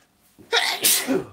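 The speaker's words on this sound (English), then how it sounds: "Can't stop sneezing now." A person gives a single sharp sneeze, a brief indrawn breath followed by a loud explosive burst, close to the microphone and alone.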